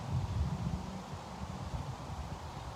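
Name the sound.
wind rustling trees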